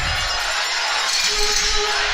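A basketball crowd at a senior boys' sectional playoff game erupts into a dense, sustained roar filling the gym, loud and continuous throughout.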